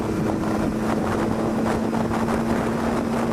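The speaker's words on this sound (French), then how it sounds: "je pense que vous entendez quand même pas mal le vent" Steady, heavy wind buffeting the microphone, a continuous loud rumble and roar with a faint low hum running underneath throughout.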